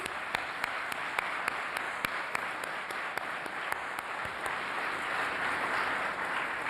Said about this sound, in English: Let's please give them all a great round of applause.